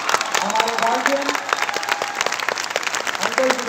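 Students at the CIMAGE Inspiro 2021 event in Gyan Bhawan, Patna applaud loudly, a dense steady clapping with a few voices mixed in that holds throughout without a break.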